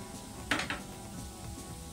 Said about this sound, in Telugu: వీటిని కూడా దోరగా వేయించుకుందామండి